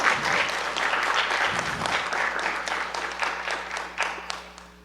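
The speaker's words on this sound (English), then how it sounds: "So let's give them a round of applause for being here." Guests at a NASA Heliophysics Summer School 20th anniversary celebration receive a steady round of applause from the audience, with distinct claps that thin out slightly toward the end.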